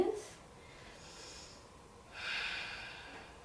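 A yoga practitioner breathing deeply during a full-body flow, a soft airy inhale followed by a longer, louder exhale, close and alone with no talk.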